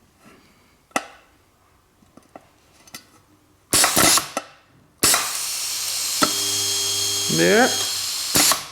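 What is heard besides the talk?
DIY pneumatic spot welder welding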